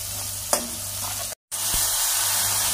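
Chopped onion and green chillies sautéing in a pan for a methi palak dish, a steady close sizzle with a few scraping stirs, one sharp knock, and a brief dropout partway through.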